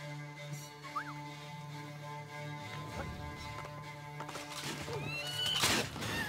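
A horse whinnies loudly in Assassin's Creed: Brotherhood, over a steady synthetic hum, with scattered clunks and hoof sounds around it.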